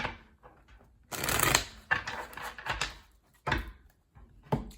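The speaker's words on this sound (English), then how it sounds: "I feel like I need to give you one more shuffle." Tarot cards being shuffled by hand, with several crisp riffling bursts separated by short pauses, close and fairly quiet, with no voices.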